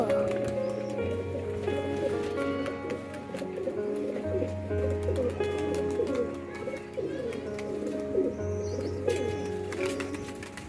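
Steady low cooing from pigeons continues throughout, with soft chirps and rustling mixed in nearby.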